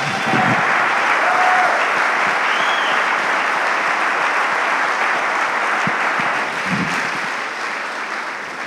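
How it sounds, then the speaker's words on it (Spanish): A conference audience in Argentina claps in praise to the Lord, a loud, continuous roar of applause that holds steady for several seconds before easing slightly, with a few scattered voices calling out within it. "Un aplauso al Señor"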